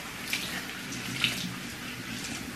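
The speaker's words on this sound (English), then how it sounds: "All right, London, you wash that out, the inside." A kitchen tap runs steadily while the inside of a bell pepper is washed out, a soft continuous splash with a couple of brief louder spatters, quiet and close, with no talking.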